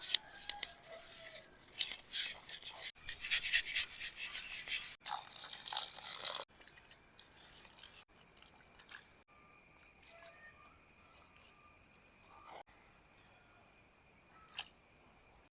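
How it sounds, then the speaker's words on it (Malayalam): Anchovies are scrubbed with rock salt in a bowl while being prepared for Kerala meen peera. Quiet, irregular gritty scraping and rubbing sounds mix with light clinks and wet splashes. "കല്ലുപ്പിട്ട് നന്നായി കഴുകിയെടുക്കുക നന്നായിട്ട് ഉരയ്ക്കുക"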